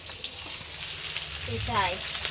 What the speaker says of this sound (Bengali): হলুদ মাখিয়ে মাছ ভাজতে লাগলো